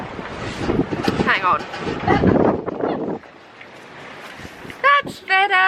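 Strong gusty wind buffets the microphone outdoors at a horse yard, roaring loudly for about three seconds before easing, then a brief voice speaks.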